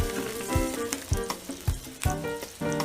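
Butter sizzles in a pan, the crackle steady and close with periodic sharper bursts and low knocks, as if the pan is being stirred or moved, and no talking over it.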